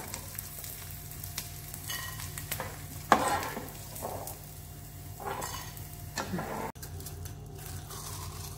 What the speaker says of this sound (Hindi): गैस की फ्लेम को मीडियम रखना है और इस तरह चलाते रहे, जिससे कि गोंद चारों तरफ से सिक जाए।